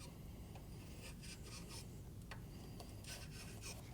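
Scraping of residue from the valve cover surface of a 2013-2022 Chevrolet Trax 1.4L L4, heard as faint, close rasping strokes repeating at an irregular rhythm over a low background hum.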